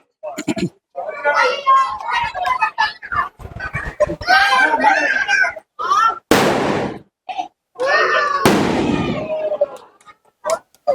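Magic wala green firecrackers going off during Diwali, sharp loud bursts crackling in quick succession near the end, with children and adults talking and chattering throughout.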